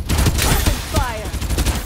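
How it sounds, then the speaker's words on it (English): Rapid bursts of automatic weapon fire from the battle-royale shooter Farlight 84, loud and close, rattling in a dense string of shots across the whole stretch. "Weapon fire!"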